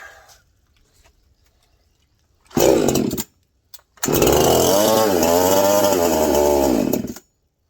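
A Husqvarna 346XP chainsaw engine fires briefly, stops, then roars to life and revs steadily for about three seconds before cutting out, loud and close.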